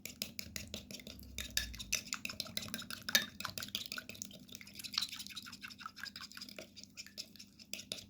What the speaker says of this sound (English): Add a pinch of baking soda and mix well the ingredients.